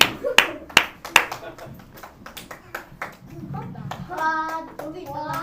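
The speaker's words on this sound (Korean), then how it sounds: "힘차게 박수 주시기 바랍니다" A church congregation at a Sunday service claps along, starting with several sharp, loud individual claps that settle into rhythmic clapping, with children's voices and singing rising underneath toward the end.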